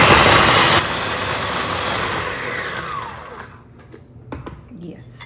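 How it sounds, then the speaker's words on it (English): A small electric blender-chopper whirs loudly for about three seconds, blending ingredients for a tandoori marinade for cauliflower, then winds down into quiet handling clicks. "So the reason I chose this blender or chopper is because I want a little bit of texture."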